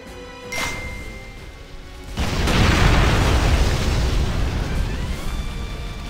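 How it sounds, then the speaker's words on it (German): In a fantasy action video game, a brief pop from a detonator is followed by a deep, rumbling blast that swells and lingers for several seconds, loud and dense with debris-like crackle. "Dickes Bumm"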